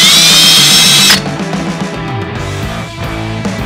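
A power drill whines loudly at high speed and then drops to a lower, labouring pitch as it bores an extra small pilot hole, steady and close throughout.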